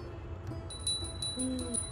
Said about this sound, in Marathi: घंटी वाजवून